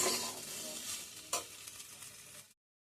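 Pasta with onion and spices is stir-fried in a pan, with a close, crackling sizzle, scraping stirs and one sharp clatter midway before the sound cuts off abruptly.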